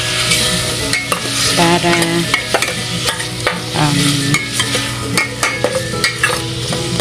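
Pork fat renders in a frying pan for pinakbet, a constant close sizzle and crackle with repeated scraping and clinking of a utensil against the pan; a single word of speech is barely heard.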